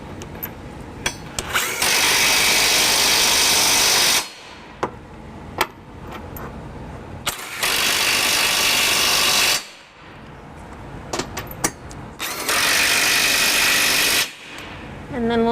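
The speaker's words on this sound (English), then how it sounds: "we're going to use our electric drill and a deep 22mm socket to just snug them down" An electric drill with a deep 22mm socket snugs trailer hitch bolts on a 2017 Acura MDX, running in three long loud bursts of a few seconds each, separated by short pauses with faint handling clicks.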